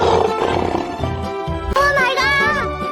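Lion roaring loudly in a cartoon scene at a fountain, a rough rumbling roar followed by a wavering, drawn-out growl.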